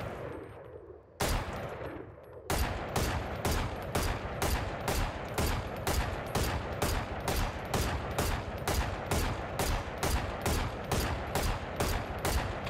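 Rapid automatic weapon fire in the shooter game Valorant, a long, evenly spaced stream of loud shots that begins after a couple of short opening bursts and carries on steadily to the end, close and dominant with no talking.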